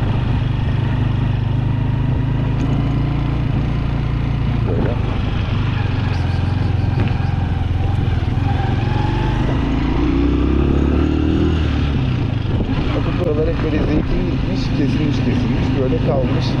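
A touring motorcycle climbs a slope on a coastal ride near Güre, its engine droning steadily and loudly with wind noise throughout, while the rider talks over it.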